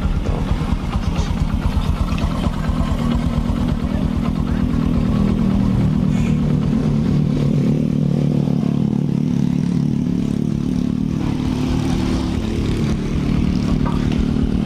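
A Honda Supra X 125 motorcycle engine runs steadily while riding on a quiet road after repairs, with a constant close, smooth putter and light mechanical clatter throughout.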